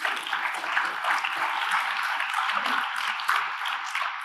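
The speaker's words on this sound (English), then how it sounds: "So give them a round of applause." An audience applauds steadily, a dense crackling wash of clapping that stays fairly even for several seconds without voices over it.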